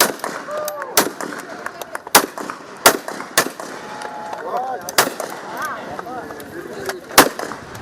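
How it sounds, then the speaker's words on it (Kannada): A ceremonial 24-round gun salute opens a Kodava family hockey tournament in Kodagu. Sharp, loud outdoor blasts go off one at a time at uneven intervals about a second apart, over faint crowd murmur. "24 ಸುತ್ತು ಗುಂಡು ಹಾರಿಸುವ ಮೂಲಕ ಕಾರ್ಯಕ್ರಮವನ್ನು ಆರಂಭಿಸಲಾಯಿತು"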